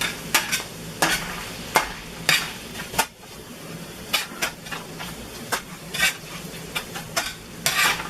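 Tofu fries with curry powder in a big frying pan, a steady sizzle broken by sharp, regular scrapes and clacks of a utensil stirring against the pan.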